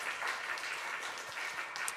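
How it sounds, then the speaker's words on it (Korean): Applause from a church congregation during a Sunday afternoon service at a Methodist church, a steady wash of many hands clapping for the full stretch with no voices over it. "다음에 나오시라고 박수 한번 부탁드리겠습니다"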